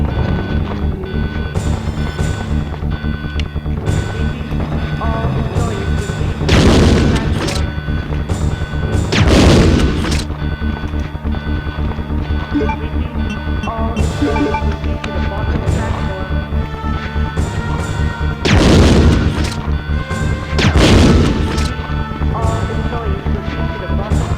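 Grenade launcher rounds in Resident Evil 2 fire and explode in several heavy booms spaced through a dense, steady game soundscape, with loud blasts near 7, 9, 19 and 21 seconds.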